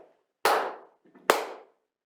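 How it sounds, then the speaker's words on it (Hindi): Two sharp, loud hand claps about a second apart at a school science exhibition, each clap a crisp single smack beside a clap-sensing project, with quiet between them. "ताली मारो आप जोर से, वहीं से मारो।"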